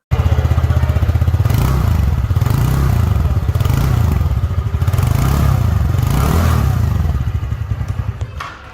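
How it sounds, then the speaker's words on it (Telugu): A 2024 TVS Ntorq 125 scooter's exhaust chugs loudly up close with a rapid, pulsing beat, rising and falling in revs before easing off at the end. "బైక్ లో మోస్ట్ అట్రాక్టివ్ పార్ట్ ఏదైనా ఉందంటే అది బైక్ ఎగ్జాస్ట్ నోట్"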